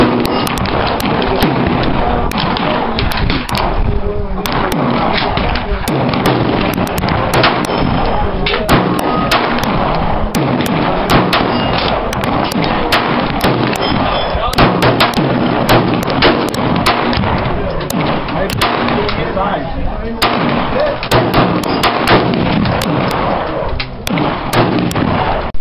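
An AR-15 rifle fires at a shooting range, a long dense stretch of loud booming shots and thuds that packs the recording from start to finish.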